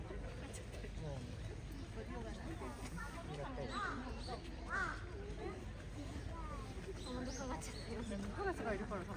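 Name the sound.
crows cawing at Ueno Zoo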